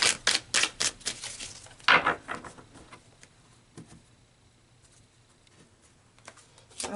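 Tarot cards being shuffled and drawn: a quick burst of crisp, close papery flicks and slaps in the first two seconds, then sparse faint taps over a quiet background.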